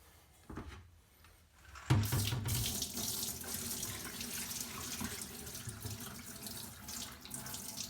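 Dirty water from a wet tumbler of brass is poured out, a quiet clatter giving way to a steady splashing stream that runs loudly for several seconds.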